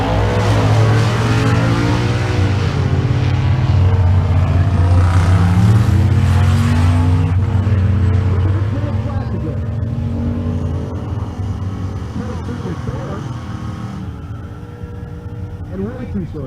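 Drag race cars launch from the line at a 1320Video Race Week event in Kearney, Nebraska, one in the left lane; a loud, sustained engine roar with revving fills the track and fades slightly as the cars pull away, with announcer commentary over it.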